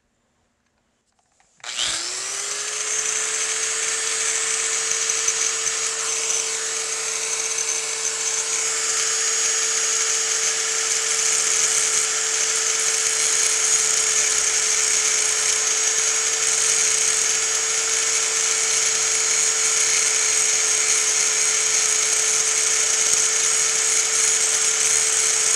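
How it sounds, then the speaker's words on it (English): A power tool spins up abruptly and holds a loud, steady high-pitched whine while cutting rivet tops off a Browning 1919 side plate, continuous to the end. "I'm going to cut the tops off these rivets that we've put in"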